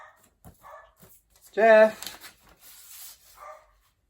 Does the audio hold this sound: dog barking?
yes